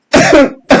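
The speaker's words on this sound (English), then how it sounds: "Oh, I was trying to hold that cough in." A couple of throaty coughs close up, a longer rough burst followed by a short second one after a brief pause.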